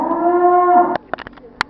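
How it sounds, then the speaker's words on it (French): A cow on a farm gives a long, loud, steady moo lasting nearly a second, followed by a few short clicks and knocks nearby. "Là juste devant il y a une vache."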